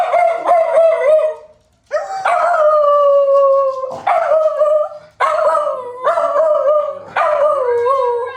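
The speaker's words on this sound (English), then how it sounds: "So we got some hound dog howls." Several hound dogs howling together up close, loud drawn-out wavering howls in overlapping bursts with short pauses between them.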